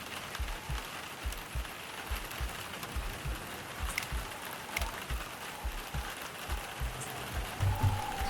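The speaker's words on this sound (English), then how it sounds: "Doesn't it sound like the rain is hitting your window?" Rain sound effect for a point-and-click video game, a continuous hiss of steady rainfall with scattered patters and faint low ticking underneath.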